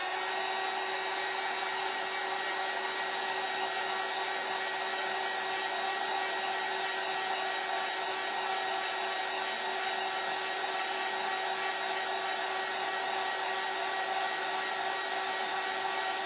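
A handheld hair dryer blows steadily over a freshly painted craft door hanger, a continuous even whirring hum with a steady tone, close and unbroken, with no talking.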